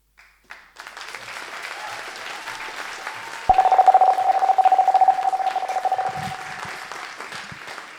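A live audience applauds performer Ingrid at the ASIR 2025 event, the steady clapping building to a louder burst with a few cheers, then thinning slightly toward the end.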